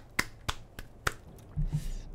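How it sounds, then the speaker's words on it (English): Four sharp, crisp hand claps spaced unevenly, close by, followed by a couple of soft low thumps. "time to clap"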